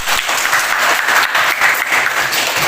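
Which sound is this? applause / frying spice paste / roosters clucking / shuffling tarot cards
applause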